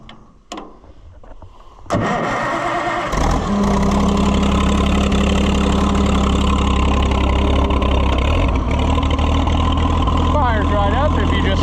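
Oliver 77 gas tractor engine cranking and catching, then settling into a loud, steady close-up idle; a few knocks and bumps before it starts, and a voice speaks briefly.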